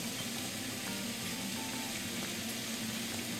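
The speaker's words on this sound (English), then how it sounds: "You hear the sizzle, it's like medium heat." Wild boar meat searing in a pan on an induction burner at a wine and food festival, giving a steady, quiet sizzle that continues evenly throughout without talk.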